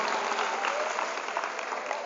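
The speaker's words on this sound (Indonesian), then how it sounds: "Tepuk tangan buat rekan saya" A crowd at a motivational seminar in a school hall claps in a brief, dense burst, heard at a moderate distance through a narrow, slightly muffled sound.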